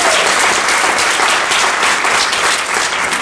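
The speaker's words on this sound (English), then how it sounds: "Give yourself a round of applause." A live audience gives a loud, sustained round of applause, many hands clapping in a dense, even roar throughout with no voices rising above it.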